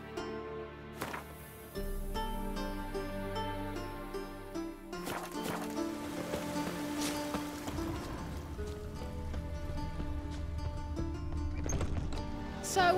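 Rain falls in The Witcher 3 city streets as a steady patter under layered orchestral game music, with occasional hoofbeats and a horse's snort in the mix.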